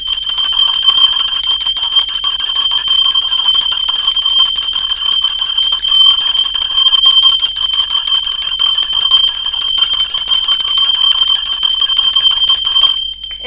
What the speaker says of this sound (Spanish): Va, campana, rápidamente.